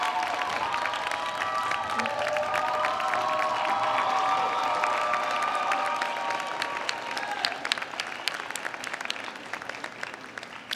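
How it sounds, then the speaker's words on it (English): Nursing commencement crowd of graduates and families applauding with some cheers, loud sustained clapping that turns sparser and more scattered toward the end. "I want to ask our graduates to now acknowledge you, family members, and thank you with their applause."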